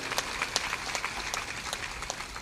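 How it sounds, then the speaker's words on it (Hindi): Short burst of audience applause at a spiritual discourse gathering, scattered claps rising and falling over a soft room murmur, fairly quiet and a little distant. "ताली बजा दो"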